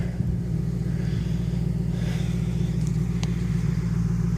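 A Ford 4.6 liter V8 idles through a Y-pipe into MagFlow performance mufflers and MagFlow tips, giving a steady, loud, deep exhaust rumble that holds level throughout.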